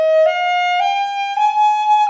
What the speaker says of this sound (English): So now play them with a very tight embouchure